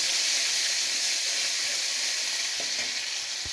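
A fried paste hits hot oil and sizzles in a loud, even hiss that holds steady throughout, with a couple of soft stirring knocks near the end.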